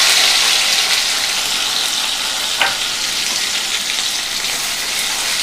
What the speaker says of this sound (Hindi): अब हम टमाटर और प्याज डाल देंगे